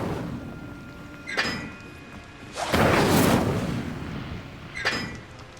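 An Incendio fire spell is cast in Hogwarts Legacy on Xbox Series X. A loud, roaring fiery whoosh swells in the middle, framed by two sharper, shorter magical bursts before and after.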